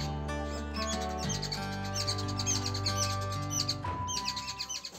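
Small birds twitter and chirp close by near a nest, with rapid repeated calls over a steady tonal hum in the background.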